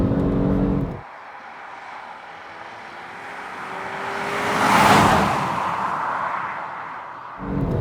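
Engine of a 2020 Volvo V60 Polestar Engineered, a twin-charged four-cylinder hybrid, heard from inside as a rising rev that swells to a peak and eases off, with a louder cabin rumble at start and end.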